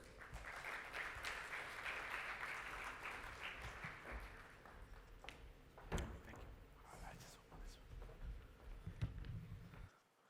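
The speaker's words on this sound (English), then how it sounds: "give a big round of applause and please welcome Mr." Audience applause greets a speaker at the 30th International CA Students' Conference in 2016, a steady broad clapping that fills most of the stretch, with murmuring voices underneath, easing off and stopping abruptly near the end.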